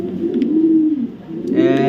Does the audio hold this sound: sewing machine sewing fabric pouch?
no